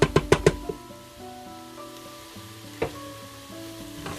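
Tomato passata sizzling and bubbling in a pot on a fry setting as it is stirred in for a lamb curry, with a few sharp spoon knocks at the start, then steady close frying crackle.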